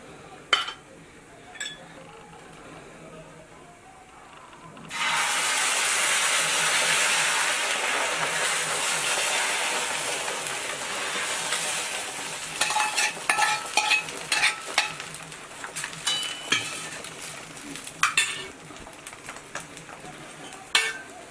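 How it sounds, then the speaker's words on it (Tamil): Beaten egg omelette mixture is poured into a buttered pan. A few quiet clicks come first, then a sudden loud sizzle that settles into steady frying, with intermittent clinks and scrapes of the utensil against the pan. "நம்ம ரெடி பண்ணி வச்சுருக்க அந்த முட்டை மிக்ஸை தூக்கி இதில் ஊற்றலாம்"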